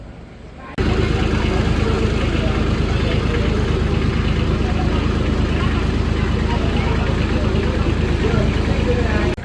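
A tractor engine idles at a Ganpati immersion procession in Chiplun. It gives a loud, steady, close mechanical rumble that starts abruptly and holds without break, with crowd noise mixed in.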